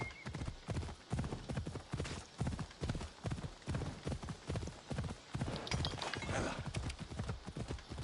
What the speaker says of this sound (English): My horse recovers well.